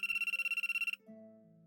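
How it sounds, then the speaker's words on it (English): A cell phone ringtone plays in a video game, a loud, rapidly pulsing electronic trill that lasts about a second before cutting to a softer, lower sustained tone. "My cell phone rang."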